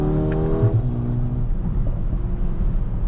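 A 2025 Mercedes A35 AMG in Sport Plus mode pulls hard through a low gear, its engine note climbing before a quick gearshift drops the pitch and the revs build again, loud and close from inside the car.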